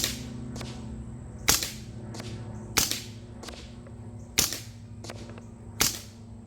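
Hot Sun Vortex airgun fired on semi-auto at a target: six sharp, distinct cracks spaced about a second apart, each with a short decay, over a quiet background hum.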